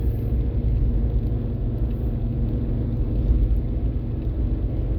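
A 2003 Jeep Liberty driving smoothly on the road, heard as a steady low engine and road rumble from inside the cabin, continuous and even throughout with no talking.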